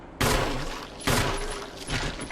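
Gunfire in the Resident Evil video game: three loud, sharp shots spaced about a second apart, each with a decaying tail, close and alone without talk.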